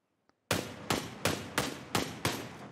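Six sharp gunshots from a video game weapon crack out one after another at a steady pace of roughly three per second, loud and close, each with a short decaying tail, preceded by a faint click.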